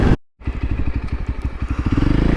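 Voge 300 Rally dual sport motorcycle with a 15-tooth front sprocket riding on small roads, its single-cylinder engine thumping in a steady rapid pulse, loud and close after a brief cut of silence at the start.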